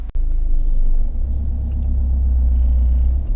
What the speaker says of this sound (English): this is a quick road test video, and this is for a Vauxhall Zafira, and it's a 2-litre diesel Elegance